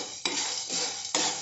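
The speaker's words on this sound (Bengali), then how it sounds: "এবার এগুলোকে আমি ড্রাই রোস্ট করে নেব।" Whole black peppercorns and spices dry roasting in a pan over medium flame, with three bursts of rattling, scraping stirring that set off a steady loud hiss and clatter, close and without any talk.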